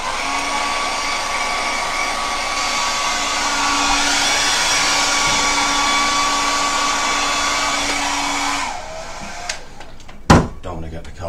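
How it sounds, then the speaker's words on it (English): A hair dryer blows with a steady, loud whirring drone for several seconds, then cuts off, followed by a few sharp knocks and clatters. "I'm going to have to switch the hairdryer on."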